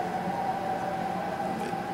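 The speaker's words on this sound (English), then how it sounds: "that was an ambulance" An ambulance siren passes at a distance, a faint steady wailing tone held over low ambient street rumble, with no talking during it.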